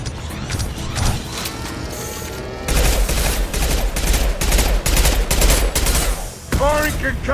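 Gunfire and a concussive shot in Mass Effect 2, a dense spell of loud rapid shots and mechanical clatter that swells after a quieter opening, with a brief voice near the end.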